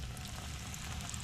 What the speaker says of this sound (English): And then we're gonna stick it into the frying pan.